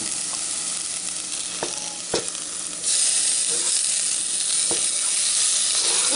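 Chopped tomato going into softened, browned onions frying in a pan, a steady close sizzle that swells louder partway through, with occasional clicks of stirring.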